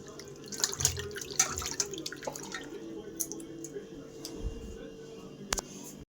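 Tap water running and splashing while rohu fish is washed in a kitchen, a steady faint flow with drips and clatters, close by, with a voice speaking briefly.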